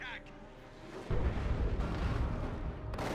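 Shotgun blasts from Dawn of War 2: Retribution during a 1v1 match, heavy booming bursts rumbling under a caster's running commentary for a few seconds.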